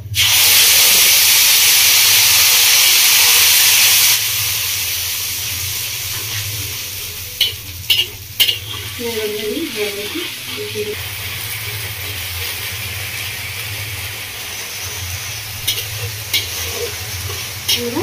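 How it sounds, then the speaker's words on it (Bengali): Loud, steady sizzling of onion paste frying in hot oil, easing to a quieter crackle with occasional scraping and clinks of a utensil. "পেঁয়াজটা দিয়ে একটু মতো ভেজে নিয়েছি"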